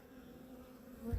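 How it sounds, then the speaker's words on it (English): Honeybees flying around a hive outdoors in sunshine, a steady low buzz of many wings with one bee passing close and louder at the end. "the sun is shining and the bees is flying."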